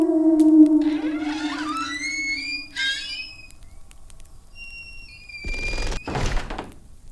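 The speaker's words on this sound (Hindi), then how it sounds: "लेकिन दरवाजा अपने आप बंद हो गया।" Door shutting by itself as a horror sound effect: a long creaking, whining groan that bends upward with eerie tonal squeals, then a heavy thud and scraping slam near the end, with no voices.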